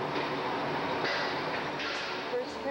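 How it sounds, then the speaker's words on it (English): A train sits at a station, giving off a steady, broad rumbling hiss that swells slightly at moments, with faint voices in the background. "I thought I'd take a picture of this train that's just sitting here."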